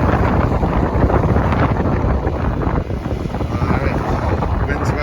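Steady wind roars over the microphone aboard a sailboat northbound off Simons Island, Georgia, in about 12.5 knots of breeze, a loud continuous gusty rush with water noise beneath and no pauses.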